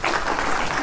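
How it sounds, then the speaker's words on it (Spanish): An audience at a Catholic catechesis conference applauds to welcome a speaker, a brief, steady wash of many hands clapping at moderate loudness. "vamos a recibirlo con un aplauso al señor Juan Moreno"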